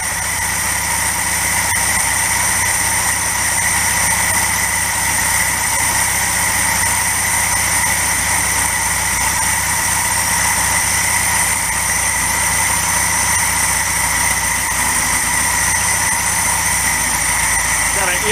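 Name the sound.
1961 Volkswagen Beetle engine idling while being adjusted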